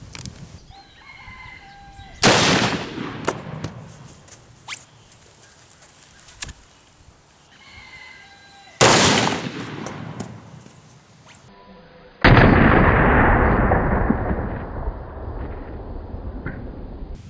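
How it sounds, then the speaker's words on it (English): Two heavy rifle gunshots, one from a 45-70 and one from a 500 S&W Magnum fired into ballistics gel outdoors, land as loud sharp blasts several seconds apart, each trailing off in a rumbling echo, while birds call faintly between them. "So we're going to shoot one more time."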